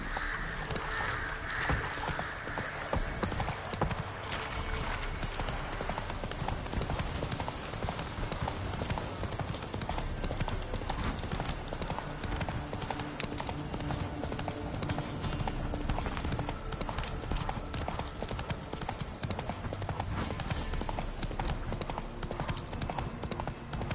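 Roach, the horse in The Witcher 3, gallops with steady, rapid clip-clop hoofbeats that run continuously and fairly loud over a constant game ambience, with no voices.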